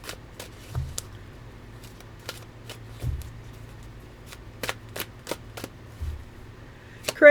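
Tarot cards shuffled by hand in a quiet room, with soft riffling swishes and sharp little card snaps recurring in loose bursts, plus a few low thumps as the deck is squared.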